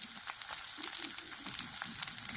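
Vegetables for spicy Indo-Chinese wheat spaghetti stir-fry in oil over a high gas flame, giving a bright continuous sizzle broken by quick tossing and scraping bursts, close and fairly quiet, with no talking.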